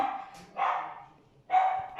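A pet dog barks indoors, two or three fairly loud barks spaced by a pause, with no voices.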